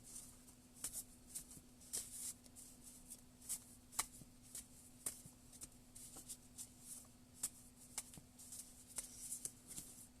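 Oracle cards are shuffled and pulled by hand, giving soft repeated riffling flicks and slaps at an uneven rhythm, close and quiet over a low steady hum, with no talking.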